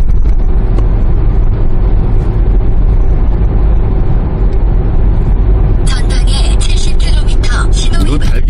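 A 2003 SsangYong Rexton coasting at 75 km/h with the accelerator released gives a steady, loud low engine and road drone inside the cabin, with people talking over it throughout.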